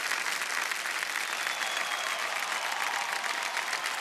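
A studio audience on the Kaun Banega Crorepati game show set breaks into steady, even applause, a continuous rattle of many hands at moderate volume.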